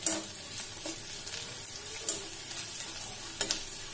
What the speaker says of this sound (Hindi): प्याज को अच्छे से भूनना पड़ता है